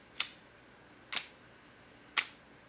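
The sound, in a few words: film camera shutter opening and closing at one-second speed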